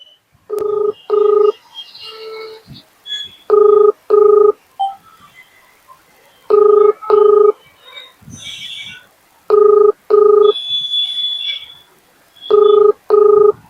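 An outgoing phone call goes unanswered, with a repeated double-pulse ringback tone sounding in loud evenly spaced pairs, mixed with faint fainter tones and noises between rings, no talk.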